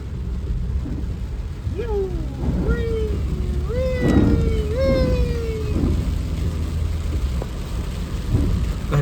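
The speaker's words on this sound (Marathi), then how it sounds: "भयानक पाऊस पडत आहे" Heavy rain pours steadily with low rumbling thunder between Pune and Mumbai, and a wavering tonal call rises and falls a few times midway.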